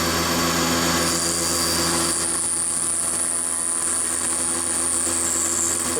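A solid carbide bit spins at 4,200 RPM on a machine, cutting slowly under a hand feed. The dense whine is loud and continuous, and a high tone rises partway through.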